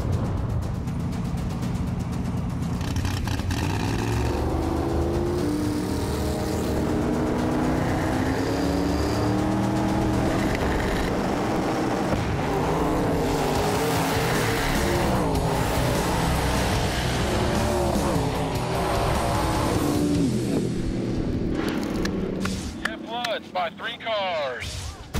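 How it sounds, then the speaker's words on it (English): A drag racing car launches hard down the strip at an I Street race, its engine roaring loud and continuous with rising revs and crackle, cutting off abruptly near the end; background voices are faintly mixed in. "Car leaves really good, and before the 60 foot, I'm almost crossing center."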